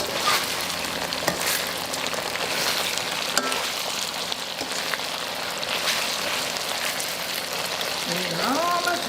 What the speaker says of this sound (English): Let me stir my stuff here.